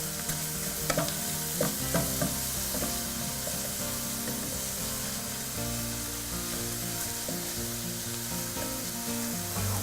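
Onions sauteing in a pan during a cooking class, a soft steady sizzle with repeated stirring scrapes of a utensil close by and faint music behind.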